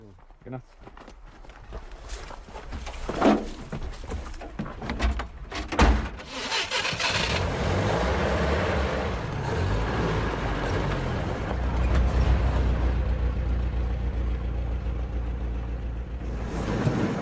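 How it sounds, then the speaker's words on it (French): An old military off-road vehicle drives along a rural village track, its engine rumbling steadily and building as it moves off, with some knocks and clatter early on and people talking over it. "Avec son vieux véhicule militaire tout-terrain, Moguch met un quart d'heure pour parcourir les 2 kilomètres jusqu'au village."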